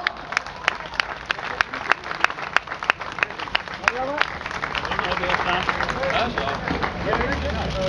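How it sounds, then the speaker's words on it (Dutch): A crowd at a cycling event in Emmen applauds with sharp, scattered claps at first, building into denser clapping and cheering toward the end, with voices murmuring underneath. "Geef ze een geweldig applaus!"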